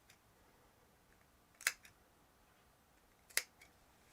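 Scissors cutting V-shaped notches into fabric for a face mask: two crisp, isolated snips about two seconds apart, close and fairly quiet over a faint background hiss.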